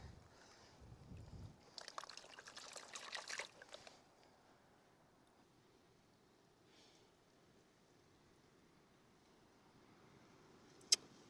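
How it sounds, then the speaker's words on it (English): Gold panning by hand in water in a Utah slot canyon: a few seconds of close sloshing, splashing water and gritty swirling in the pan, then quiet faint trickles with a sharp clink near the end. "Now I'm just gonna pan it the traditional way here."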